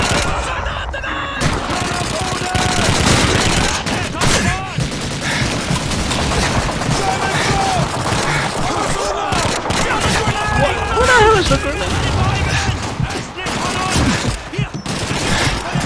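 Dense, continuous battlefield gunfire in Call of Duty 2 on veteran difficulty, with overlapping rifle and machine-gun shots close and loud throughout, as soldiers shout over the din.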